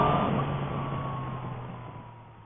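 A 2015 Yamaha MT-09 Street Rally motorcycle pulls away under acceleration, a steady engine drone heard from the riding position with constant rushing wind noise that gradually fades in loudness.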